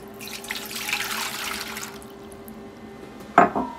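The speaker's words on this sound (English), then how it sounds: "I take one of these right here, hotel pans. Love it. Then I take, put a little bit of water in it." Water poured into a metal hotel pan, a steady splashing pour for a couple of seconds that then stops and is followed by a brief metallic clank.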